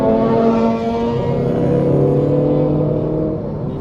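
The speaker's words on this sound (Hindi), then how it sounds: "अभी जो इसकी केबिन साउंड है आप सुन सकते हैं" Cabin noise inside a Citroen Aircross while driving, a steady low engine and road drone with a faint hum, constant and fairly loud, no voices.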